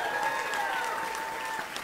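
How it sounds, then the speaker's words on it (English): A church audience claps and cheers for a woman after a prayer, the applause steady and dense throughout, with a faint sustained tone running underneath. "Let's give her a cheer tonight."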